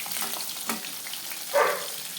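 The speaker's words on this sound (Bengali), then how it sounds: "বাকি মাছগুলো ভাজা হয়ে গেলে এবার আমি সব তুলে নেব" Bhetki fish frying in hot oil, a steady soft sizzle throughout with a brief louder crackling burst near the end, no voices.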